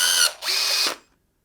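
The NB08PT-18 cordless rivet nut tool sets a blind fastener with two short, loud motor whirs, one brief and one longer, close by, then silence.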